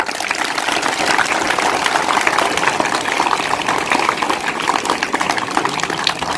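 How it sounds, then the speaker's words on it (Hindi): Loud, dense applause fills the room at a school quiz competition, a continuous hiss-like wash of many hands clapping steadily from start to end with no talk. "जोरदार तालियां"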